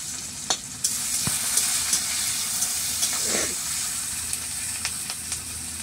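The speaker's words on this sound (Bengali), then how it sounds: "পেঁয়াজ আমার ভাজা হয়ে গেছে" Onions sizzle steadily in hot oil, salted to soften, a continuous close frying hiss with a few light clicks of stirring and no talk.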